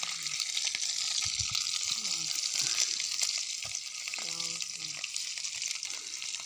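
Dried fish frying in a pan, a steady bright sizzle and crackle running loud and continuous throughout, with a few faint clinks and a soft voice briefly underneath.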